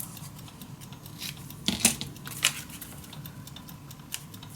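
Paper is snipped for a junk journal in a few quiet, close scissor cuts, two sharper crisp snips standing out over a soft room background.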